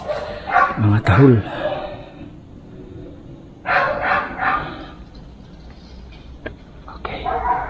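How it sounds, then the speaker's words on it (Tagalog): Dogs bark in bursts outside a house in a quiet residential village, sharp yaps and yips clustered at the start and again midway, moderately near, with some voice-like tones mixed in. "May mga aso, maririnig."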